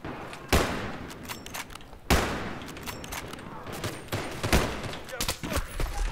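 Rapid gunfire in a Battlefield 3 multiplayer match: two loud, booming bursts stand out near the start, followed by a steady chatter of shots and quieter thuds that continue throughout.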